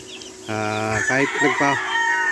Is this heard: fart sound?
no